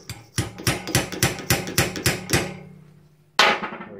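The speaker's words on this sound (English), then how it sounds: "If you're going to use a hammer, slide it down the stanchion." Hammer blows sliding down the stanchion of a Yamaha TDR 250 front fork during a rebuild: about nine sharp metallic strikes in a quick, slightly uneven rhythm, close and loud, then a pause and one final hard knock.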